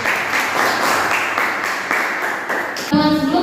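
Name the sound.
classroom applause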